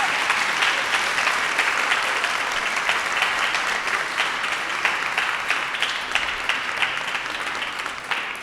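Audience applause for the chefs at a food event, a dense, steady clapping from a sizeable crowd that holds for the whole stretch and thins slightly toward the end, with no voices over it.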